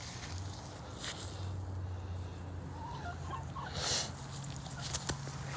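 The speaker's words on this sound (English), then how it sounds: "These are one of my smaller chickens right there." Small backyard hens cluck softly in the distance, with low murmurs and scattered calls against a quiet outdoor background and no talking.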